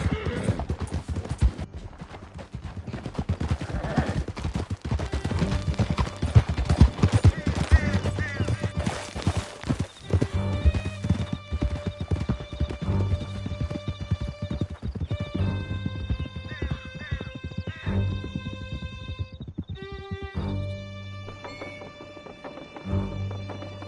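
Horses gallop at full speed during a canyon escape in Red Dead Redemption 2, rapid rhythmic hoofbeats with occasional whinnies, over game music and brief voices.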